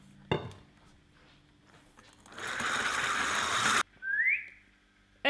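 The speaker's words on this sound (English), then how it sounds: "And as you whisk it through, it'll dissolve through and it will start to get a little glossier." An electric mixer whisks egg whites and sugar into meringue for lemonade macarons, a sustained close buzzing whir that cuts off abruptly, followed by a brief rising whine and a short renewed burst.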